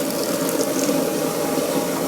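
Water runs steadily from the opened tap of a greenhouse watering tank as it fills, a continuous close hiss and splash with no voices.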